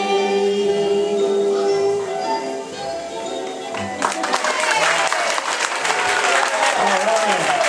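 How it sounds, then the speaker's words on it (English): Audience applause at a congregation talent show after a song performance, loud sustained clapping that swells louder midway, with music and a voice fading underneath at first. "Big round of applause for Lori."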